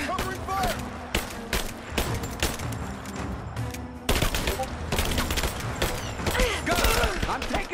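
Heavy gunfire rattles through a Rise of the Tomb Raider firefight in loud, close bursts of rapid shots, with someone talking over the shooting.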